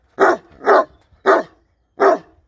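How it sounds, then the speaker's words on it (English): A dog barks four times at close range in short, loud bursts with brief pauses between them, alone with no voices. "Stop barking."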